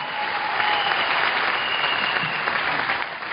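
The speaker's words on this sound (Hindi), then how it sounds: "मैं चाहूंगा एक बार जोरदार तालियां" Loud, sustained applause from an audience at a business success-testimony event, a thick continuous roar of many hands clapping that holds steady from start to finish.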